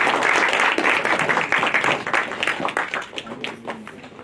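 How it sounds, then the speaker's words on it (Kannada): Audience applause at a short film press meet, a dense burst of clapping that starts loud and thins out over a few seconds, with voices mixed in. "ಬನ್ನಿ ಚಪ್ಪಾಳೆ."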